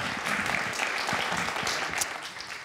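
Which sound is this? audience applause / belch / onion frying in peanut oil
audience applause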